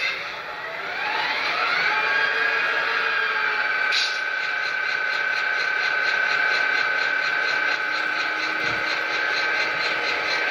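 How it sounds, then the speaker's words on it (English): An Athearn SD45-2 model diesel locomotive with Tsunami 2 DCC sound hums steadily with a whining motor tone and faint clicking, running continuously and fairly close, with no talking. "the sound of the locomotive"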